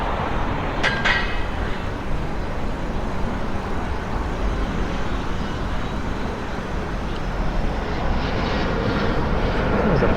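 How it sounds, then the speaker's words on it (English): An airplane comes in to land at Reagan National airport, heard as a steady broadband roar throughout, moderately loud and blended with traffic noise and wind along a bike route nearby. "There's a plane landing at Reagan National."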